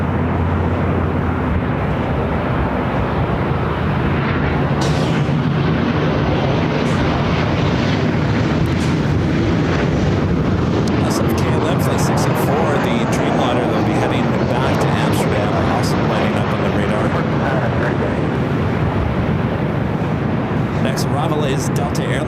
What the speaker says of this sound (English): the Emirates A380 Super now heading up here for our north side at takeoff